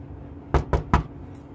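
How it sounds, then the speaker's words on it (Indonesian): Three sharp, close knocks on a door come in quick succession, evenly spaced, after a brief quiet moment, with no voices present. "Ada yang ketok pintu."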